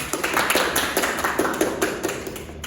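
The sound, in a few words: applause for a student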